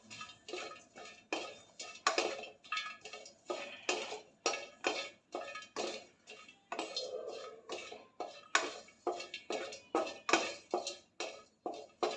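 Small coconut pieces roast in a pan while a spatula stirs and scrapes them, giving soft, rhythmic metallic clinks and scrapes about twice a second throughout.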